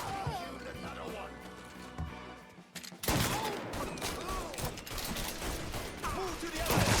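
Gunfire rattles through a Mafia 3 game scene, quieter at first and then breaking into loud repeated volleys of shots after a few seconds, with voices speaking over it.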